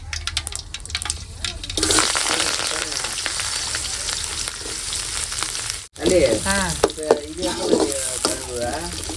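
Onions and curry leaves fry in hot oil with fenugreek and mustard seeds in a pan for fish curry, a loud steady sizzle with stirring scrapes, a brief drop-out partway through, then crackling sizzle again.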